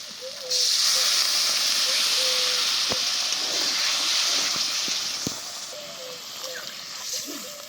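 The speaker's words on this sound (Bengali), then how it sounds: "এবার দিয়ে দেবো পরিমাণ মতো জল" Water poured into hot fried spice masala for a fish kofta curry bursts into a loud, sustained steamy hiss that swells, holds for several seconds, then eases off, with a few pan knocks.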